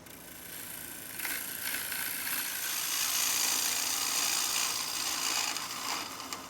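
A woodturning gouge cuts into spinning wood on a lathe, a rough, hissing scrape that swells in loudness and holds steady for several seconds, close and continuous with no talking.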